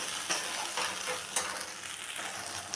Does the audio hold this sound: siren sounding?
no